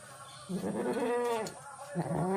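A pregnant goat at a goat farm bleating in two short, close calls with a brief pause between, fairly quiet overall.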